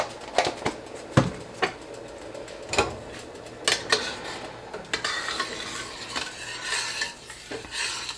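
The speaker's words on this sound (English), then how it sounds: "And we're just going to stir this up." Meatball sauce with sugar stirred in a pot, a string of close spoon scrapes and knocks against the pot, irregular and fairly loud, with a soft bubbling simmer beneath and no talking.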